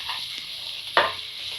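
Tomatoes salted for mushroom biryani get stirred in a pan: a soft, steady sizzle with one sharp spatula scrape near the middle, close and fairly quiet.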